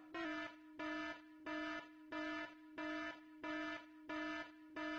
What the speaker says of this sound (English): Who did raise alarm?